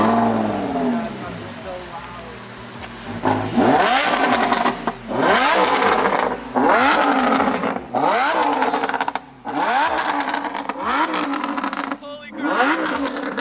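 A car engine close by revs repeatedly up to its rev limiter, each rising sweep bouncing off the cut in rhythmic bursts over several seconds, with voices heard among the revving.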